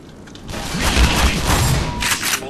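Grenade blasts in the Black Mesa video game, a run of heavy booming thumps and rumbling crackle that swell loud through the middle and keep rolling, with a burst of debris hiss near the end.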